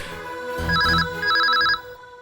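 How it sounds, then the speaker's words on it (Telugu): Two bursts of a telephone ringback tone, each a warbling electronic ring, heard over a soft background hum. "రింగ్ అవుతుంది, ఒక నిమిషం ఆగండి, మాట్లాడతారు."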